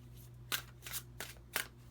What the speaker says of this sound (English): Let's give the cards a really good shuffle.